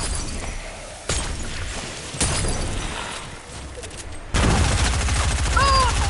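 Gunfire rings out in Fortnite as loud, sharp bursts of shots and impacts hit in quick succession, with sudden jumps in intensity and a short high tone near the end.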